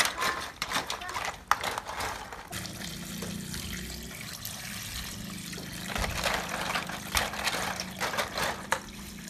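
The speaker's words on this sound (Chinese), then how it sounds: "首先我们把扇贝洗一下" Scallops bought at a Qingdao dock are rinsed in running water before steaming, a continuous splashing tap flow with swishing and clattering shells, fairly close and steady, with some voice-like murmur in the background.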